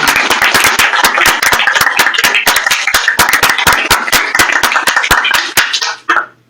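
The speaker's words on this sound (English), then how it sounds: "let's clap for our creators" A conference audience at a programming-language event claps for the creators of new languages. Sharp, loud, closely spaced handclaps from a modest group sound near and continuous, then stop abruptly at the end.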